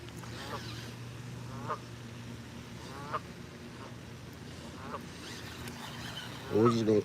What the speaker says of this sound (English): well, geese, ducks, whatever.